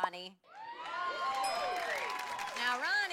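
Studio audience at a Jersey Shore reunion show cheering and whooping for Ronnie, with shrill excited shouts and rising cries swelling over a sustained crowd roar just after a host's short spoken line.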